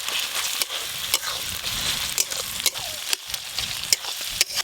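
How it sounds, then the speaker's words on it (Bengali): Ginger, garlic and onion fry in hot oil, a steady close sizzle broken by regular clacks and scrapes of a stirring utensil against the pan. "আদা রসুন পেঁয়াজ খুব ভালো করে ভেজে নিয়েছি"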